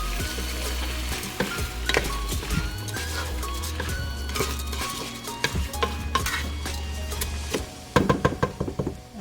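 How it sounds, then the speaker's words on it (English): A spoon scrapes and knocks against a pot as rice is stirred into a simmering base for Filipino-style arroz caldo, with irregular clinks and soft sizzling and a low steady hum underneath. "Okay, now we can add our rice. Let's stir this."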